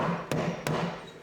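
Two sharp hammer strikes about a third of a second apart, each a crisp knock over a steady background hiss.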